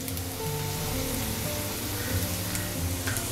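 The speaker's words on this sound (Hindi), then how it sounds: "हमने इसे टॉस करते हुए क्रिस्पी होने तक फ्राई कर लिया है।" Cumin-spiced potatoes fry in a pan with a steady, dense sizzle and crackle, close and continuous, with faint scraping as they are tossed.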